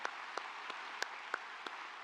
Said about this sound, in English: please join me in giving another round of applause to the FAU Army ROTC Color Guard